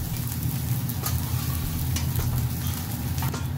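Bacon sizzles steadily in a frying pan, a dense continuous crackle and hiss with faint stirring scrapes, close and fairly loud with no talking.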